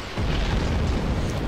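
A loud, continuous rumbling blast in Dark Souls swells after a brief lead-in and holds as a dense, booming roar with no voices.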